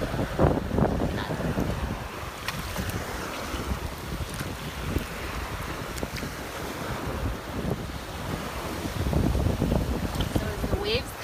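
Ocean waves wash onto a shell-strewn beach in low, rolling surges that swell and fade, with wind buffeting the microphone throughout.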